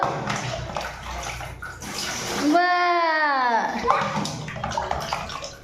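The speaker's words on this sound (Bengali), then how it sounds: "আবার ঢালো, আরেকবার ঢালো।" Water poured by a baby, splashing and trickling close by in a bathtub-like setting, with a voice and an adult talking over it and a brief rising squeal in the middle.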